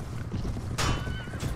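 Horses in the video game Sands of Faith, a loud close whinny over rapid clip-clopping hooves, with a sharp burst of neighing breaking in partway through.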